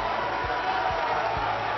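The arena crowd in the wrestling video game WWE 2K19 roars in a steady, dense wash of cheering, with a few low thuds in the ring beneath it.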